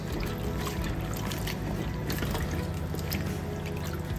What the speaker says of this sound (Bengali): এবার ভালো করে ধুয়ে জল ঝরিয়ে থালায় তুলে রাখছি